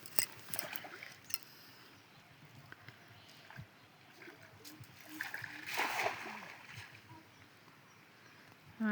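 A fishing net is thrown into a pond from a boat and lands with an outdoor splash of water. Brief trickles follow, and people talk and shout nearby throughout.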